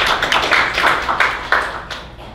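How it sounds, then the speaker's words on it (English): Audience at a talk clapping, close and fairly loud, with several uneven bursts of hand claps that thin out toward the end. "so let's give applause to Jonas."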